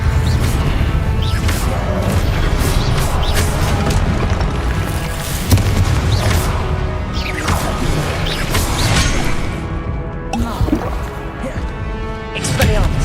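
Hogwarts Legacy spell combat with an Expelliarmus disarming spell: a series of whooshing magical blasts and booming impacts, layered with clanking mechanical noise and a steady rumble, under voices calling out.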